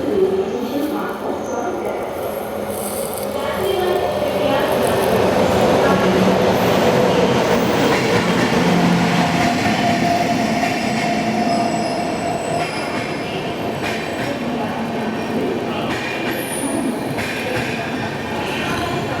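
At Durg junction, a Durg–Visakhapatnam Vande Bharat Express stands at the platform amid station bustle, with a train rumbling and squealing wheels, scattered clanks and murmured voices throughout.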